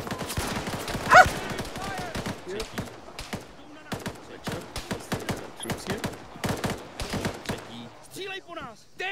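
Gunfire in ARMA 3: scattered rifle shots and short bursts crack near and far in an irregular rhythm throughout a firefight, with faint voices mixed in.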